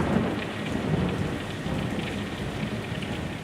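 Rain pouring down on Cape Canaveral in 1961 with thunder, a dense steady downpour wash under a low rolling rumble, continuous and fairly loud, no speech.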